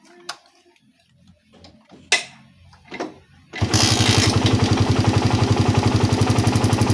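Motorcycle engine starts up after a few quiet knocks and settles into a loud, steady idle with a rapid regular pulse while the carburetor is being tuned.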